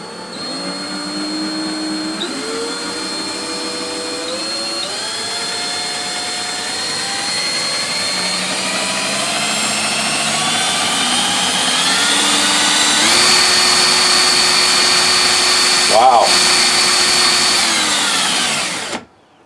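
A cordless drill spins a permanent magnet 12 volt DC motor used as a generator for a wind turbine, giving a loud steady whine that climbs in pitch in steps as the speed rises, then cuts off abruptly at the end.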